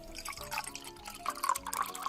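Warm water poured into a bowl of flour and yeast, heard as faint, close splashing and dripping with small bright droplets over a quiet background.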